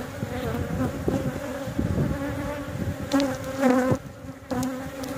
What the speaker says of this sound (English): Pretty loaded with bees.